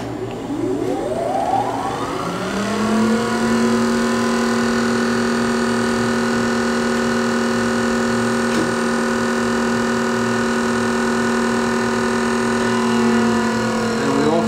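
A Parker-Majestic super-precision internal grinder starts its workhead and grinding spindle, a rising whine that climbs over a couple of seconds into a steady, loud tonal hum with a constant low motor drone beneath.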